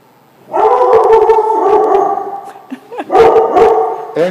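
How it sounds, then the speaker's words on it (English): A dog lets out loud, close, drawn-out howling barks, two long sustained calls separated by a short break, indoors. "And I got my guard dog with me."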